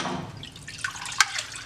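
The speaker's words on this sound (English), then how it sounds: "we're going to soak it in the parts washer" Liquid drips into a parts washer where a Harley-Davidson front fork slider soaks, a couple of small, close, crisp drops standing out over a soft trickling wash.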